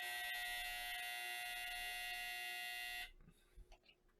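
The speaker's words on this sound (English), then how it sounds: "That's my dryer. But it still sounds like it's still going." A home clothes dryer runs with a steady, bright electric buzz and hum for about three seconds, then cuts off, leaving faint scattered clatter and a quiet room.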